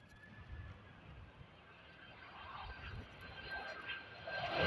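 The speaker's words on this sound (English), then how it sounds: "Here she is, the beautiful 767." A Boeing 767 airliner comes in to land at Lanzarote Airport on a windy day. Its faint, distant engine drone hums low and slowly builds louder toward the end as the jet approaches.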